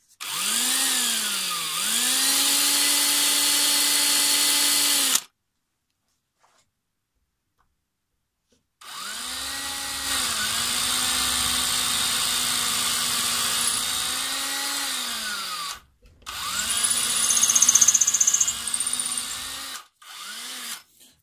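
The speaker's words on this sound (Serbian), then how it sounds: "kada bušite s ovim svrdlom, bušilica malo pleše" A Parkside power drill bores with a wood and stone bit in three loud bursts of whining motor, its pitch dipping and rising as the drill wobbles under load, separated by short silences.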